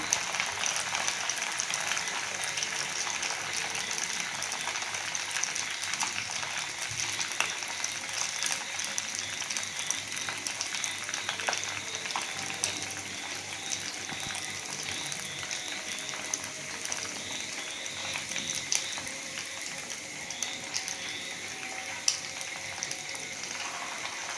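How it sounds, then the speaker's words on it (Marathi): Rava gulab jamun frying in oil until golden, a steady, dense bubbling sizzle that holds evenly and fairly loud throughout, with no talk. "गोल्डन कलर येईपर्यंत आपण तळून घेऊया"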